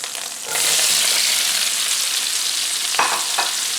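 Onions and apples hit a hot pan with a sudden steady sizzle that starts about half a second in and holds loud and close, with two brief bursts of stirring near the end. No one speaks.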